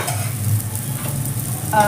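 Fenugreek leaves frying in a pan while being stirred, a close steady sizzle with scraping stir strokes and no talk.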